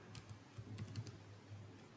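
Close, light typing on a computer keyboard, a quick irregular run of soft key clicks over a quiet background.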